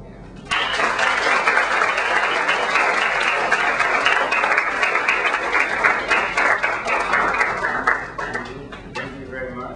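Audience applause in a university lecture hall welcoming speaker Kenyon Farrow: a sustained, loud wash of clapping from many hands that starts abruptly, holds steady for several seconds and tapers off near the end.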